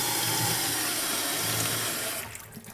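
A bucktail fishing fly is swished through water, a continuous close rushing wash that stops abruptly near the end, leaving quiet.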